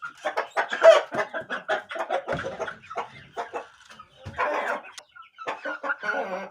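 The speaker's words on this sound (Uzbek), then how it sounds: "xo'roz jo'ja, laqabi Kobra" A young rooster chick nicknamed Kobra clucks in a quick, uneven run of close, loud calls with short pauses, with no voices or other sounds behind it.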